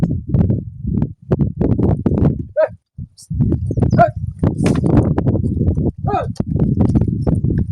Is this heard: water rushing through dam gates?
no